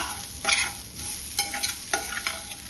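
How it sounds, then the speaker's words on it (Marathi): Round slices of bitter gourd shallow frying in oil, a close steady sizzle broken by several bursts of scraping and stirring, with no talking. "छान अशा शालो फ्राय करून घ्यायच्या आहेत या तेलामध्ये"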